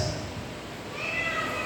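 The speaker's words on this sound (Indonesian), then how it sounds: "Anak kucing." A kitten meows briefly and softly, a thin tonal cry rising late against a quiet room hum.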